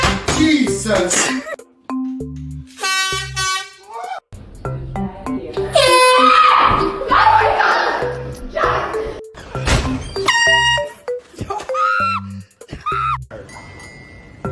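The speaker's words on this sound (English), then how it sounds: "These air horns have zero chill and max volume." Air horns blasted in pranks, repeated loud, harsh honks of varying length, very close, interleaved with startled yelps, laughter and talk.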